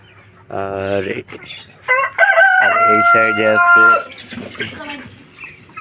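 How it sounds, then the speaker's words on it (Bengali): A rooster of the Turkish Sultan breed crows loudly and close by in one long, harmonic call, preceded by a shorter crowing burst and followed by faint clucking and chatter from other fowl. "তুর্কির অরিজিনাল ব্রিডের সুলতান আছে, দুইটা মোরগ আর একটা মুরগি"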